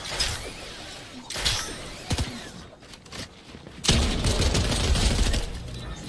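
Video game gunfire in a first-person shooter: bursts of loud, rapid shots and impacts that shift into heavier sustained firing toward the end.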